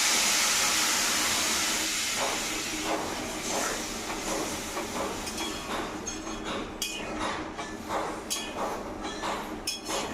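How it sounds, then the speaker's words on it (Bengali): Water poured into a hot pot of khichuri, setting off a loud steady sizzling hiss that slowly fades, with a few faint utensil clinks and taps toward the end. "আমি এখন এর মধ্যে জল দিয়ে দেবো।"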